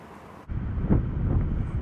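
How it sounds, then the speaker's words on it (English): Strong wind at an outdoor airgun shooting range, heard as a loud, rumbling gust buffeting the microphone that rises suddenly and stays steady. "The wind is getting very, very strong."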